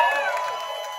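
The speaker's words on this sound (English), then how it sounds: "Can we give a cheer for everyone again," A live audience at an evening contestant critique show cheers and whoops briefly in a dense, loud crowd roar.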